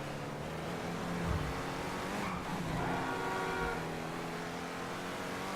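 Declasse Scramjet car driving in GTA 5, a continuous engine drone with shifting revs and a brief tire squeal or skid midway, heard alone.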